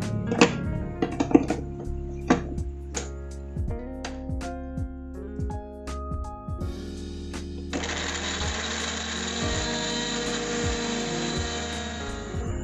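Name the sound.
blender blending carrots with milk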